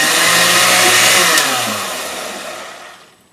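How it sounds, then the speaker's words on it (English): A blender making a smoothie whirs loudly with a steady broadband roar, then its motor winds down and fades out near the end. "you want to blend that water around a little bit just to mix it up"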